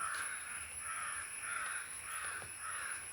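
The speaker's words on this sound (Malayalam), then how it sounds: "ഇപ്പം ചക്കയൊക്കെ പഴുക്കുന്നതുകൊണ്ട് കാക്കകളൊക്കെ വരും ചക്കപ്പഴം തിന്നാനായിട്ട്" Several crows caw in repeated rhythmic calls against steady background noise, gathering around trees where ripe jackfruit has fallen. No talking is heard.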